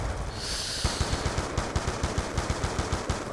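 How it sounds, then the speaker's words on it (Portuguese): Rapid automatic gunfire from the PC shooter Black Ops 2, a steady stream of loud shots in quick regular bursts with no talk over it. "é muito tiroteio aqui"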